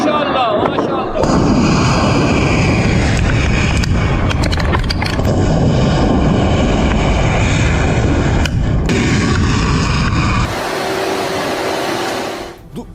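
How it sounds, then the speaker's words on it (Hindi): Iranian missile launch and strike in Bahrain heard as a loud, sustained roaring blast with crackling bursts, a brief lull, then a hissing rush that fades out at the end. "खमनेई की तस्वीर लगाकर मिसाइल दागी और देखिए मिसाइल जाकर गिरी है बहरीन में"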